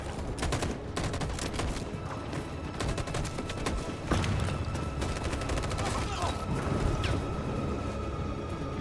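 Sustained covering gunfire in Detroit: Become Human, a dense run of overlapping shots and bursts that stays loud and close throughout, with a heavier impact near the middle.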